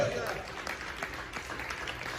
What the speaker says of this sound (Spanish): Denle palmas al Señor, pues.